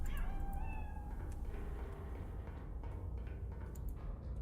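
A cat meows close by, with a couple of rising, drawn-out calls near the start over a steady low background hum, then quieter faint sounds.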